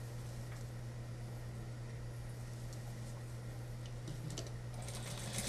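Sewing machine stitching women's suit pants during an alteration, giving a steady, continuous low motor hum with faint mechanical ticking, quiet and unbroken, with no voices.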